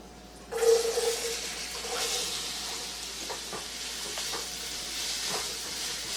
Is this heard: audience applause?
no